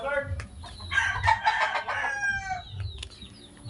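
Hens cluck nearby and a fighting rooster crows loudly, one long crow over a chorus of fowl.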